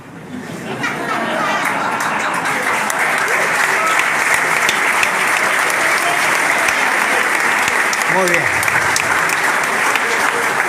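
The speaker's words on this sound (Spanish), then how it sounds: "Este aplauso que ustedes ven que no es generalizado" Political rally audience in Merlo applauding, a loud, sustained wall of clapping that swells in within the first second and holds steady, with crowd chatter mixed in and a short spoken phrase near the end.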